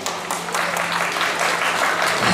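Audience applause at an Ambedkar Jayanti celebration, a steady wash of clapping that carries on throughout and swells slightly toward the end.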